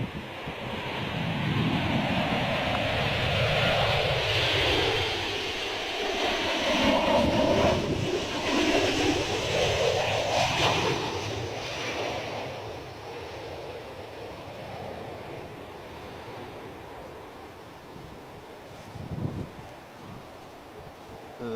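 Aircraft arriving at Bristol Airport, a loud sustained roar of a plane passing close that swells, then fades into wind noise, with no voices.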